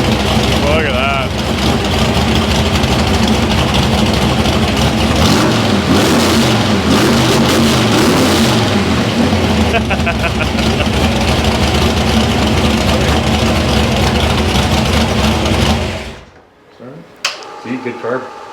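A freshly built old-school engine idles loud and steady with a lumpy, rumbling beat for most of the stretch, people talking over it, before it cuts off near the end into near silence.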